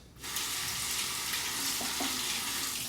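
Tap water runs in a steady, soft hiss as a Goodfellas Smile Valynor razor is rinsed mid-shave, with no talking.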